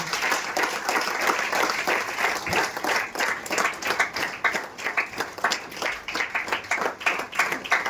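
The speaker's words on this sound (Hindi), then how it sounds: "स्तुति की तालियां देते रहिए।" A church congregation claps in praise, a dense sustained wash of many hands with sharp individual claps standing out, steady and fairly loud throughout, with no talking over it.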